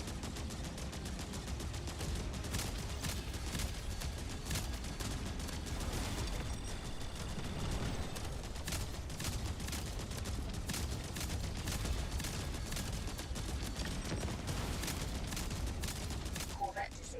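Sustained barrage of weapons fire and incoming missile impacts in a space combat game, dense overlapping bursts rumbling continuously throughout at steady loudness.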